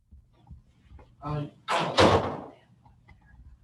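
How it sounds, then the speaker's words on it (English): A door thuds shut in the background of a live commission meeting, a couple of dull slamming bangs among muffled room noise, with a voice speaking briefly in between. "There's a lot of noise in the background, like slamming doors and all that."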